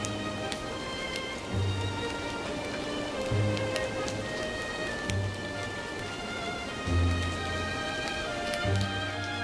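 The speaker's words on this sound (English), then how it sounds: "I don't really like the rain sound effect. It almost sounds more like crackling of fire than it does rain" Rain in the role-playing game Grandia II patters and crackles steadily over a low ambient hum, with scattered sharp ticks and periodic low thuds.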